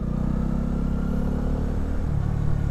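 A 2018 Honda CB125R motorcycle downshifting under engine braking, a steady close low engine rumble with a faint pulsing beat and no talking.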